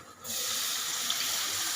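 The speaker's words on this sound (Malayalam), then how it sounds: "നമുക്ക് ഇച്ചിരി വെള്ളം ഒഴിച്ചു കൊടുക്കാം" Plain water poured into a pan of Kerala fish curry masala for river fish (aattu vaala) curry, a steady close rushing pour after a brief quiet start, with no talk.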